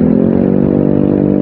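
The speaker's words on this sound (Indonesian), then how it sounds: "Nuhu itu guys dikasih knalpot brong." A motorcycle with a loud aftermarket exhaust idles close by, a deep, throbbing exhaust burble, steady and rumbling throughout.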